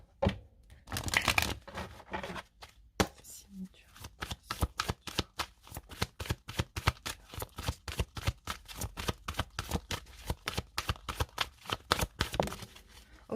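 Oracle cards are shuffled by hand for a reading, a close, rapid run of crisp riffling snaps and flutters repeating steadily, with a voice talking at times.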